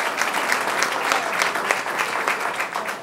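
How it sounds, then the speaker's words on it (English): Applause breaks out from an audience in council chambers right after a vote carries, a steady, dense patter of many hands clapping at close range for about three seconds. "You can clap now."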